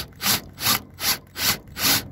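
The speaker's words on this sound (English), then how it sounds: "So I'm just gonna take the drill" Wood being drilled out for a beehive stand, five steady rhythmic grinding bursts of even length with short pauses between, close and fairly loud, no talk.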